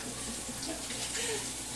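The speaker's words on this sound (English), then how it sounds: "You just rinse them, rub them out." Norwex Envirocloth rinsed under a running tap, a steady close rush of water spraying into a sink with no pause.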